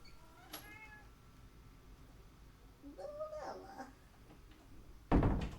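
A cat meows several times with rising, wavering cries, followed by a sudden loud thump or rustle near the end.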